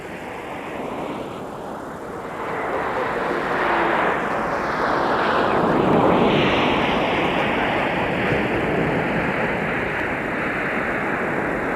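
Southwest Boeing 737 MAX 8 landing at a snowy winter Minneapolis–St. Paul airport, a broad steady jet roar that swells from about two seconds and holds loud and close throughout, with no talking.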